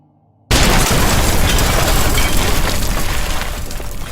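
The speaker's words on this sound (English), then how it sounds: "The sky lit up as an explosion rang outside the tower." A single loud explosion booms outside a tower in an audiobook scene, erupting after a brief quiet moment and sustaining a dense, roaring rumble of debris and fire that holds steady for several seconds.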